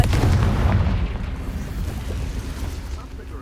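Confringo fire spell from Hogwarts Legacy bursting in a game cave: a loud, low boom at the start that rumbles and fades into a long, dull roar over the next few seconds.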